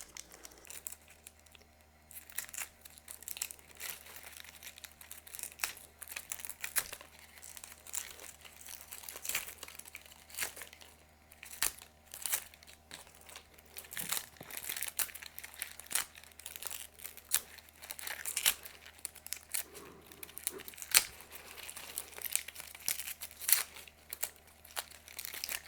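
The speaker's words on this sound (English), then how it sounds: "Now to prepare the tops, I just peel the leaves back." Bottom leaves peeled off a pineapple top by hand, a long run of soft, close crinkling and tearing rustles with scattered sharper snaps, quiet and uneven in rhythm.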